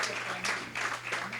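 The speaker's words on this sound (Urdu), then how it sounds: "تالیاں ہو جانی چاہیے" Applause from an audience at an evening literary gathering honouring a poet, a soft steady patter of clapping heard from a distance at low level.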